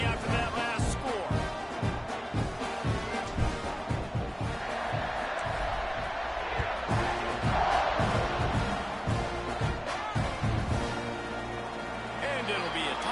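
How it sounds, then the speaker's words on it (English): A football stadium crowd at a Texas A&M versus NC State game keeps up a loud, steady roar after a touchdown, with a commentator talking continuously over it. "this crowd is buzzing after that last score"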